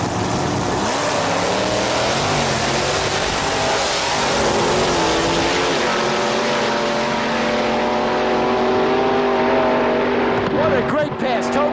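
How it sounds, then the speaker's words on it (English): Drag race cars with big block Chevrolet engines mounted behind the driver roar continuously and loudly down the strip, a dense sustained engine drone with rising pitch under commentary. "Both of these cars powered by big block Chevrolet engines stuffed in the back seat"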